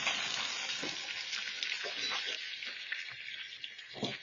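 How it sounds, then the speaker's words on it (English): Onions sizzle and fry steadily in a hot pan for a Jamaican escovitch curry fish stew, a continuous bright crackle with occasional stirring scrapes, close and fairly loud with no talking. "I'm going to add my onions in."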